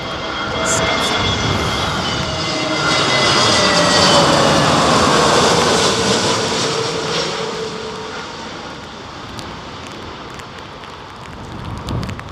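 An airliner lands in strong wind at Heathrow, its engine whine and roar building to a peak and then easing off as the aircraft passes, with wind noise underneath.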